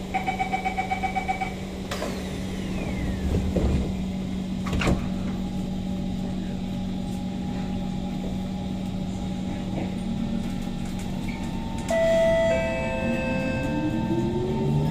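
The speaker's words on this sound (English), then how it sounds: "doors are closing." On a Singapore SMRT C151 train between Sembawang and Canberra stations, a beeping warning chime sounds, then sliding doors thud shut over a steady hum, followed by another chime and rising electric whine.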